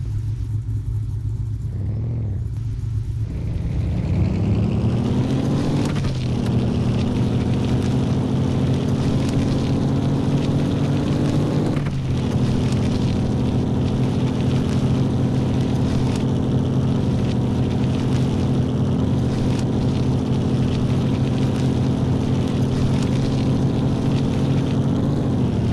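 A four-wheel-drive off-road vehicle with its differential locked, driving in the game Off Road Outlaws. Its engine drones steadily and loudly throughout, rising early on and then holding a constant tone, with brief dips at a couple of gear shifts.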